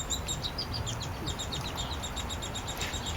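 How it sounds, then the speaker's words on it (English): A baby downy woodpecker chirps repeatedly in quick, high, thin calls, moderately close, over a steady low background rumble with no talking. "Little baby Downy. Still chirping away."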